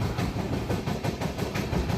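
The Shalimar Express pulling away from Salekasa station, a loud rhythmic clatter of wheels over rail joints repeating every quarter second or so with a low rumble beneath, continuous and close.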